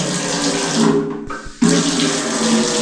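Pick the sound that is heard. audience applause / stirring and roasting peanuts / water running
water running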